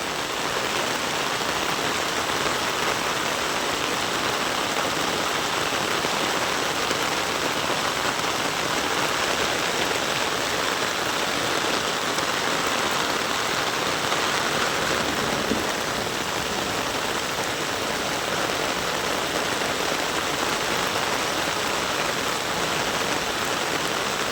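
Torrential rain in Sangrur district, Punjab, roars steadily for the whole stretch, a broad, unchanging hiss of drops pounding nearby surfaces, loud and alone without talk.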